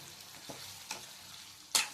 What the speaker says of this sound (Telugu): వేసి బాగా మిక్స్ చేయాలండి.